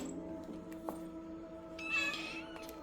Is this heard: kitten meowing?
yes